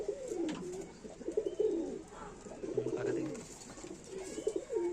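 Pigeons coo in soft, repeated rolling phrases at close range, from a Bengali pigeon keeper's birds: a Kalshira male and a small-winged Panja flier. Several overlapping coos sound loud and steady, with faint chirps behind them and no talk.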